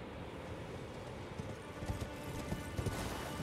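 Hooves clip-clop in a steady galloping rhythm as a horse is ridden in the video game Elden Ring, faint and moderately distant beneath a dense wash of game ambience, with no voices.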